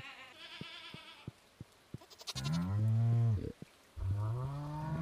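Goats bleat in the farming video game Stardew Valley, a few soft ticks giving way to two long, loud, wavering bleats close up, separated by a short pause.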